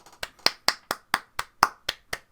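Hands clap in a steady, evenly spaced rhythm, about eleven crisp close claps in a row with no voices.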